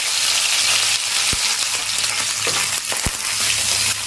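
Dried snails frying in hot oil, a loud close continuous crackling sizzle with a couple of sharp thuds from stirring, no voices.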